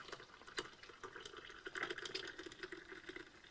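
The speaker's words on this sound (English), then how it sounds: "that pours nice, it doesn't dribble." Coffee pours from a Farberware 8-cup Yosemite stovetop percolator into a cup outdoors, a faint, steady liquid trickle and splash lasting a few seconds with no voices.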